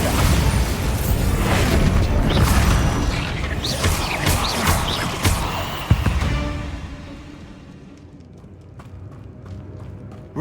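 A Bombarda blasting spell explodes in the video game Hogwarts Legacy, a dense, loud rumbling blast with crashing debris that slowly fades into quieter ambience, with a brief sharp pop near the end.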